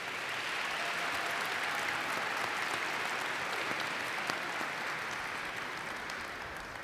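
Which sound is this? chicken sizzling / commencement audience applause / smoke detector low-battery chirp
commencement audience applause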